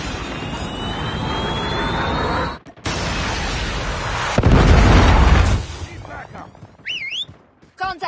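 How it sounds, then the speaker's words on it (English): Napalm strike and Predator missile explosions in Call of Duty gameplay: loud booming blasts and rumbling bursts over jet-like roaring, a heavy impact midway, then fading with crackling debris and short synthetic electronic tones. "Napalm deployed. Predator missile inbound."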